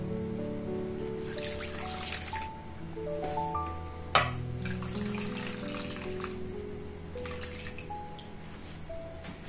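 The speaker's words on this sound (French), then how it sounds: "Je vais compléter avec de l'eau." Water is poured into a measuring jug of lemon juice sitting on a kitchen scale, making a continuous trickle with rising, pinging tones as the jug fills and one brief knock partway through.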